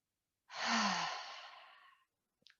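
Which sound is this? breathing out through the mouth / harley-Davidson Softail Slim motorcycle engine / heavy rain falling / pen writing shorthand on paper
breathing out through the mouth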